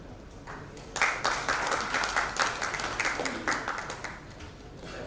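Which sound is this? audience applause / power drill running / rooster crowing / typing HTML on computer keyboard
audience applause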